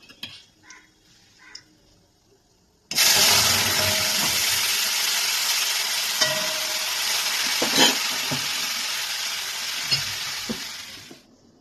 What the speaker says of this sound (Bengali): এবার আমি এর মধ্যে ডালটা দিয়ে দিচ্ছি